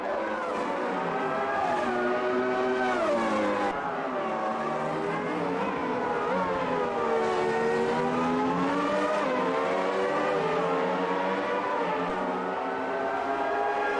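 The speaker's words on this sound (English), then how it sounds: "Hakkinen is easily keeping up with that McLaren" Formula One cars race at Interlagos in the Automobilista 2 racing game, with loud, continuous high-revving engine whines rising and falling as they accelerate and shift, several cars audible together close by throughout.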